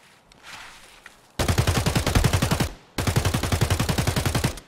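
Escape from Tarkov gunfire: two long bursts of rapid automatic shots, loud and close, the second following a brief pause, with faint ambience before the first burst.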